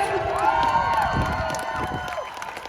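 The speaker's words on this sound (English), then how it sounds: "Round of applause." Audience at a Black Lives Matter gathering in Logan, Utah cheers and shouts in a steady crowd roar that stays loud throughout, with some clapping mixed in.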